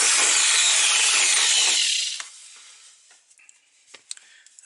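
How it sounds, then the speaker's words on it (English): Drill boring a hole in a 1978 GMC/Chevy stepside truck, a loud continuous grinding whine for about two seconds that then stops, followed by faint scattered clicks and taps. "got to drill a hole"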